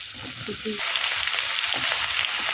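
Brinjal goes into hot oil with fried potato, pointed gourd, pumpkin and jackfruit seeds for a Bengali pui data chorchori. A brief clatter of the pieces landing gives way to a loud, steady sizzle that continues to the end.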